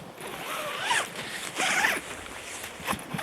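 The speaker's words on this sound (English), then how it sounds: "So you've got one big zipper which runs pretty much all the way around the circumference." A large zipper running around the circumference of a bag's lid is pulled open in several rasping strokes, close and clear over faint background noise.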